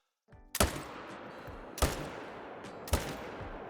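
Three loud hunting rifle shots fired in the video game theHunter Call of the Wild, evenly spaced about a second apart, each a sharp crack with a short echoing tail, no voices.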